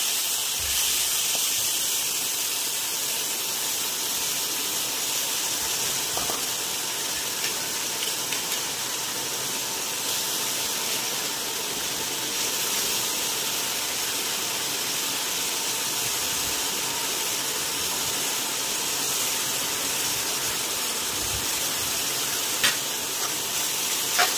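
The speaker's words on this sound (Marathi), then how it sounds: "सगळी टोमॅटो ॲड केली, त्याच्यानंतर छान असं परतायचं एक 1-2 मिनटं" Four or five chopped medium tomatoes sauté in a hot pan, giving off a continuous, even hiss of sizzling and steam with faint occasional stirring, no voices.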